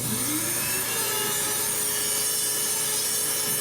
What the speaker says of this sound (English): use a little power drill to thin everything out